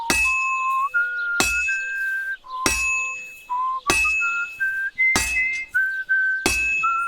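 A person whistles a slow, wavering tune while playing Kingdom Come: Deliverance II, clear held notes broken by several sharp metallic clangs of forging that ring out loud and close.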